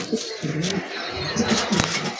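Soft, low coos from a male pigeon at a pigeon market repeat a few times close by, rising out of a steady background murmur.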